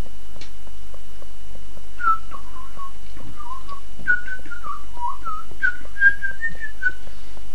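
Someone whistles a loose, wandering tune of short rising and falling notes while playing Minecraft, fairly soft, over faint clicks and steady background hiss.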